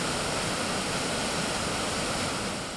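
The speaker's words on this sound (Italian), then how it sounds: "il fiume Sele in piena" The Sele river in flood at Caposele rushes past as a loud, unbroken roar of churning water, steady and close throughout.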